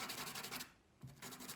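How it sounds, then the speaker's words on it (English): A pastel pencil tip rubbed back and forth on a dirty sanding block, giving close, steady gritty scraping strokes with a brief pause in the middle, no talking. "I can always sand it a little bit on my sanding block"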